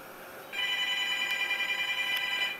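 A telephone rings loudly and close by in a sustained electronic trill that starts abruptly and keeps going alone, with no talk over it.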